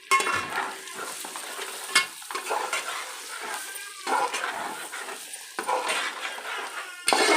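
Telangana-style chicken fry is stirred in a pan, a steady sizzle broken by repeated scraping strokes and occasional sharp clinks of the spoon against the metal, close and fairly quiet.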